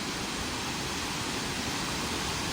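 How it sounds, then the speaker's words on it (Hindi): Bhelughat waterfall at Dokmoka in Karbi Anglong, set among hills with fairly low water, gives a steady, dense roar of falling water, loud and unbroken throughout with no voices. "ये है बेलूघाट का वाटरफॉल एरिया।"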